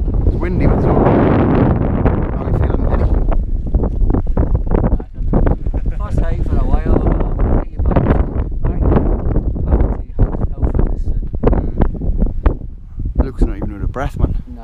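Gusty wind buffets the microphone in a steady rumble while a person talks over it, outdoors while wild camping, with no rain.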